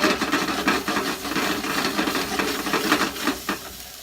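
Steady crackling sizzle of rice and chorizo frying in a pan, with soft scraping and stirring, close and moderately quiet, no voices.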